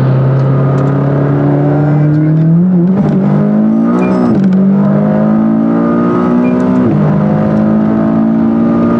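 McLaren 570S sports car accelerating hard from 100 to 200 km/h, a loud close engine drone climbing steadily in pitch, with brief dips at each gear change before rising again.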